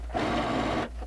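Sewing machine running steadily for about a second while closing the armhole seam of a wrap dress, a continuous mid-level motor whir with no talk.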